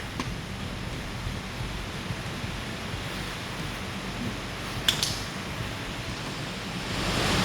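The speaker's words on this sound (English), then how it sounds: "it's raining out there" Steady rain falling outside a speed shop, a continuous soft hiss throughout with a faint click partway through, and no talk.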